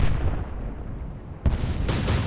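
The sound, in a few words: explosion in naval video game Atlantic Fleet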